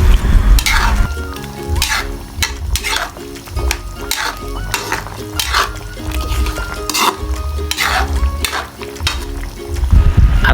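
Bicol style chicken curry with coconut milk is stirred in a pan, with a steady sizzle of frying under repeated scraping and clinking of a utensil against the cookware, close and fairly loud.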